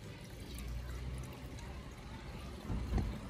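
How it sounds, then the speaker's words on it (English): Drinking water pours into a carbide lamp, a low, steady gurgling trickle close to the microphone that swells slightly toward the end, with no one speaking. "So we're going to put some water in."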